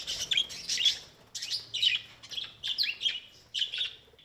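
A flock of hundreds of parakeets at a rescue shelter chirps and twitters in rapid bursts, shrill overlapping calls repeating steadily, close and fairly loud.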